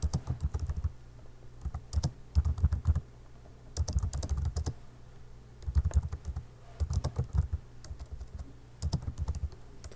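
Bursts of clacky keystrokes on a computer keyboard enter a place name into a poster text box, close and clear with short pauses between runs of typing.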